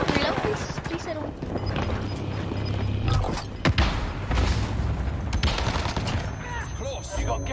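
An enemy cluster strike lands in a video game shooter, with a rapid string of loud explosions and gunfire-like cracks rolling on for several seconds while players talk underneath.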